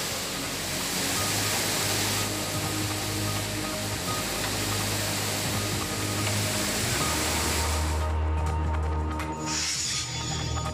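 Water released from the Kavdas dam at about 9,200 cusecs rushes with a loud, continuous broadband roar that fills the whole stretch, easing slightly near the end.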